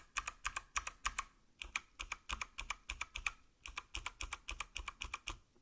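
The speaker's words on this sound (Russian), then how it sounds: "клавиши, которые с резиновыми орингами" Rapid, steady typing on a Motospeed CK61 mechanical keyboard whose keys are fitted with rubber O-rings, the clicks close and crisp, running in quick bursts with one short pause.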